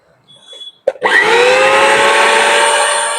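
A repaired Universal mixer grinder switches on after a couple of soft clicks and then runs with a steady, loud, high-pitched whirring motor hum.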